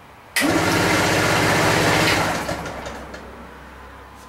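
A Suzuki motorcycle engine catches abruptly and runs with a rough, pulsing rumble for about two seconds, then dies away and fades to quiet, heard close with no talking.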